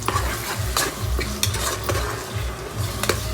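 Tomatoes and curry leaves going into frying onions and stirred, a loud close sizzle with rhythmic spatula scrapes and light clinks against the pan.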